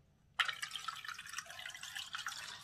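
Water splashes and trickles steadily into a pot of eggs, starting abruptly and continuing with a bubbly, running flow, fairly close.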